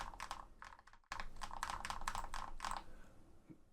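Lofree Shadow low profile switches mounted in Phantom housings are tapped in quick, soft bursts, a close, muted clatter of key presses with a short pause partway through.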